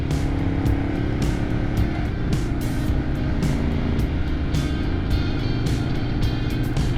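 A Ducati motorcycle ridden along a winding Sierra mountain road in autumn drones loudly and steadily up close, its engine roar blended with heavy wind rush and punctuated by brief recurring bursts of hiss, with no talking.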